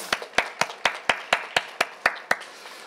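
Congregation at a Korean church healing service clapping together in a steady, rhythmic unison beat, about ten sharp claps spaced evenly at a moderate tempo, fairly close and with no talking over them.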